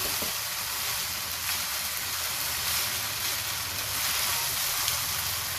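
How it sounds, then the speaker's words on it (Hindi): Boiled rice sizzling in a hot pan for chicken fajita rice while being stirred, a steady close hiss of frying with soft scraping and mixing underneath, no voices. "अब ये जो चावल मैंने बॉईल किए थे ये इसके अंदर मैं डालने लगी हूँ और अब इसको मिक्स कर लेते हैं अच्छे से।"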